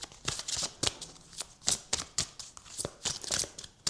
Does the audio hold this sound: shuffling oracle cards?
yes